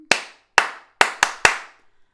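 Five sharp hand claps in an uneven rhythm, two spaced, then a quicker group of three, crisp and close with short decays and no talking, from a clap-back listening game.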